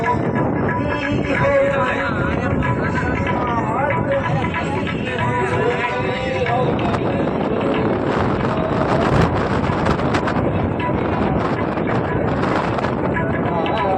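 Strong wind buffeting the microphone outdoors at a rural ashram, a continuous loud rumbling roar that never lets up, with someone talking over it throughout.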